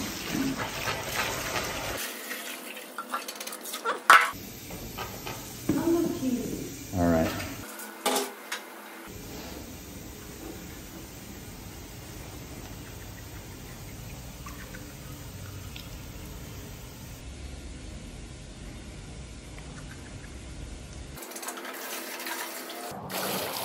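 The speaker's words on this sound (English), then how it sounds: "And just pour that into these buckets here." Water pours and splashes into buckets outdoors while a duck waterslide is built, with hollow plastic knocks and clatter, bursts of flow that come and go over a faint steady background.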